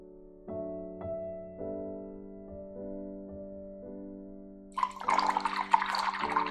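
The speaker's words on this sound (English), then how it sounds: "Rinsing out my paintbrush very well." A paintbrush is swished and rinsed in a container of water, making a burst of splashing and sloshing during the last second and a half, after a stretch of soft, steady background music.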